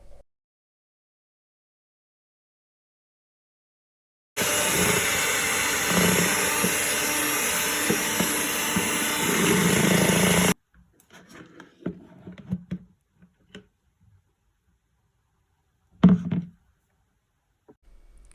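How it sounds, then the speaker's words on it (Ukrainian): An electric mixer whips jelly, whirring loudly and steadily for about six seconds, then stops, followed by faint clinks and a brief final burst. "Далі ми будемо збивати рідину міксером."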